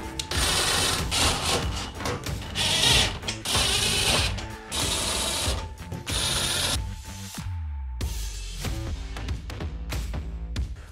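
Screws are driven into rear window screens on a RAM ProMaster van, a steady whirring power driver working in bursts with metallic ratcheting, near and loud, with no talking.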